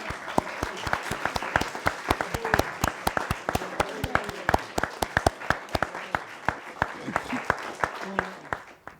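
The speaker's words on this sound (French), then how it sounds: "je vous demanderai de l'applaudir" A thin audience at a literary reading contest applauds with sparse, distinct hand claps, sharp individual smacks at an uneven rhythm, fairly near, while a voice murmurs beneath them.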